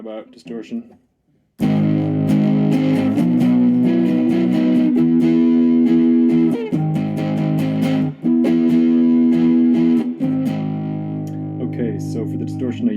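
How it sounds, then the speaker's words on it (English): Loud, heavily distorted electric guitar chords from a Squier Bullet Mustang with germanium-diode distortion ring out continuously after a brief quiet start, sustained and saturated with a few short breaks between strums. "Okay, how about distortion?"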